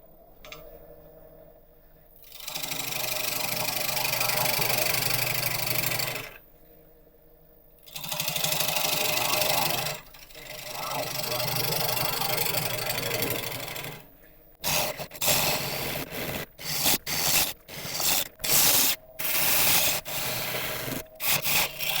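A lathe turns a piece of sequoia wood as a tool cuts at its corners, giving long sustained rasping bursts separated by short pauses, then a run of quick, choppy cuts near the end, close and loud.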